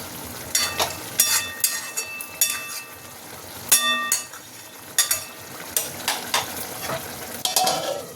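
A spoon scrapes and clinks through a sizzling pan of raw hilsa fish curry with yogurt and tomato, making repeated uneven strokes over a low background fry, close up and with no voices.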